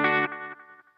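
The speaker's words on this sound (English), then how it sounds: "anything above about there, is going to have the delay signal louder than the actual original signal" Echoing repeats from a Delay Llama MK3 analog delay pedal with tap tempo: a sustained, distorted chord followed by about three evenly spaced repeats that fade step by step, with no talking.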